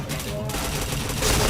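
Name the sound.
gunfire from the video game PointBlank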